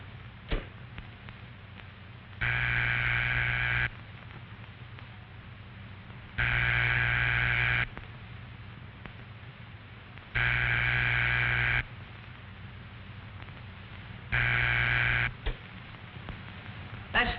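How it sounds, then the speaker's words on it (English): Telephone ringback tone from a 1940 dial telephone system, four steady humming bursts of about a second and a half each, separated by regular pauses of a few seconds, over a faint hiss with no talk. "That's the ringing signal."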